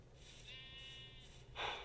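A Minecraft sheep bleats twice, a thin, wavering synthetic baa followed by a shorter, harsher one, faint and alone.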